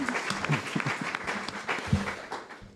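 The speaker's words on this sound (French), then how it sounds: "On l'applaudit parce que c'est quand même un effort d'être chroniqueur." An audience applauds a columnist at a nature talk; faint, scattered clapping sits low in the mix beneath a voice that speaks through it.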